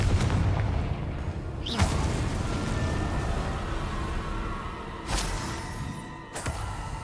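Confringo spell blasts in the Hogwarts Legacy game, a few sharp bursts spaced out over several seconds, each cracking over a continuous low rumbling background.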